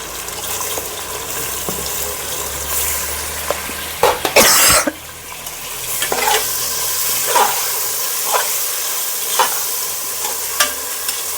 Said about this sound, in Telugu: ఇది ఫ్రై అవ్వాలండి